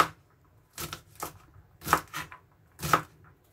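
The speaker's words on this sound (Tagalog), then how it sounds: "At ito, nagkakat lang ako ng string beans." Knife chopping string beans on a cutting board in a home kitchen: four or five separate, crisp cuts at an uneven pace, close and clear against a quiet room, with no talk.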